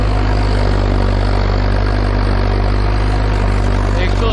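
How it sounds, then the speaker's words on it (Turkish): A tractor idles with its exhaust close by during fieldwork with a subsoiler: a loud, steady, low engine drone with a strong rumble that stays even from start to finish. "Egzoz sesini duyabileceğiz bakalım."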